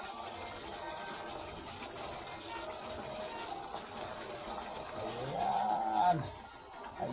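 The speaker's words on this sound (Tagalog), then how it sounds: "Lagyan natin ng tubig." Water gushes into a pan of chicken asado with litson sauce, a steady pouring rush close by that swells briefly near the end, with faint background noise and no talking.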